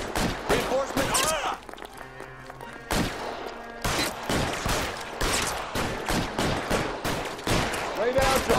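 Rapid gunfire bursts from the LA Noire video game, loud repeated shots in uneven clusters across the whole stretch, with voices in between.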